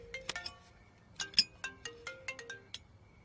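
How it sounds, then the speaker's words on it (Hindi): A mobile phone ringtone plays a bright, chiming melodic pattern of short notes, fairly faint in a quiet room. "मेरा फोन बज रहा है, जरा दोगे क्या?"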